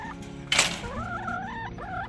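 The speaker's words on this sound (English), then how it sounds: "Hello, ladies. Hi, Rooster." Hens and a rooster cluck and call nearby in short rising-and-falling notes, with a sharp crackling knock partway through.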